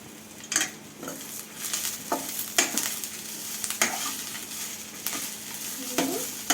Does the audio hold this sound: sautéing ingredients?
yes